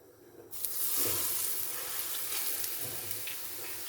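Hot groundnut oil poured into blended dry beans for moi-moi, a sudden hissing sizzle that bursts in and holds steady, with faint stirring through it.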